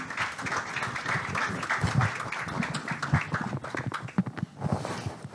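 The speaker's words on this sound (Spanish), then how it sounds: "Vamos a pedirle un fuerte aplauso para los panelistas." Audience applause for panelists at a renewable energy forum on electric mobility, steady clapping from a crowd with some voices mixed in, fairly quiet and continuous.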